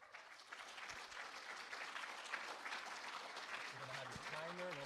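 Audience applause at a recorded talk on a Vulkan API game engine, steady dense clapping filling the room throughout, with a voice and faint tonal sounds rising near the end.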